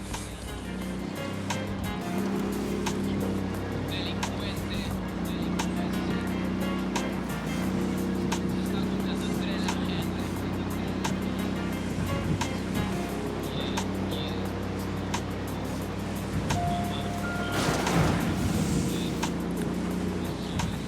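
Truck driving in the video game Tom Clancy's Ghost Recon Wildlands, a steady low engine rumble that holds throughout, with a brief louder rushing swell near the end.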